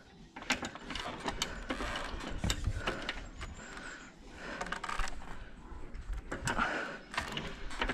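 A hand winch ratchets in repeated sharp clicking bursts while a sailboat mast is lowered, with mechanical clanks throughout and no talk.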